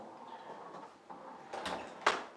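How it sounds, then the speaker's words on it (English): A door being shut indoors: soft handling and sliding noises build up, then a sharp latch and thud close the clip, moderately close in a quiet room. "Get the door shut here."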